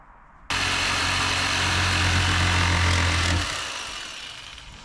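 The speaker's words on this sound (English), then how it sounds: "Owen's cutting the wood" A power saw runs steadily for about three seconds, cutting wood for paneling inside a van conversion, loud and close, with a droning motor hum that cuts off and fades into room noise.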